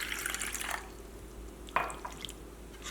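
Water poured little by little into rice flour paste, with a short trickling splash at the start and another brief gurgling pour midway, separated by quiet pauses.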